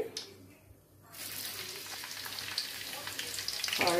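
Garlic and green chillies frying in hot oil for an egg curry: after a brief quiet gap a steady, dense crackling sizzle rises and swells, close and continuous with no talk.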